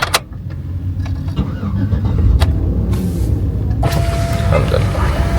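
A GMC vehicle with a freshly changed battery and a repaired dynamo being started: a steady low engine rumble runs throughout, loud and close, with a sharp click near the start and a brief clank midway.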